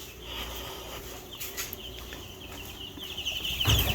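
Meat chickens clucking at morning feeding time: a flock of soft, overlapping clucks and calls nearby, with rustling and a louder thump near the end.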